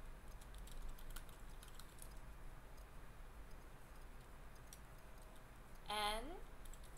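Quick, light keystrokes on a computer keyboard tap out a blog title, faint and irregular over a low background hum, with a brief voice near the end.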